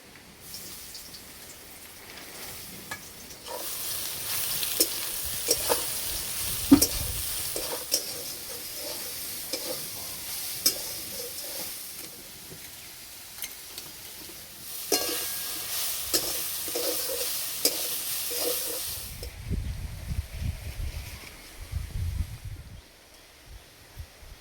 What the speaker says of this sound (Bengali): এই তেলের মধ্যে সোয়াবিনগুলো ভেজে নেব।